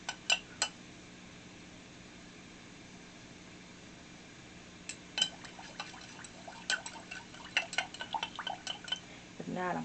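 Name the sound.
stirring melting lavender body lotion in a pot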